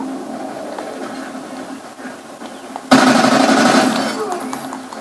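Remington weapon fire in the shooter game Call of Duty: Ghosts, a sudden loud burst of gunfire cutting in midway over a steady droning game background.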